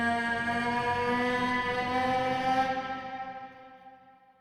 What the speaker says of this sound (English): So you can hear it's pretty dramatic, it's pretty big, and we just don't need that much reverb.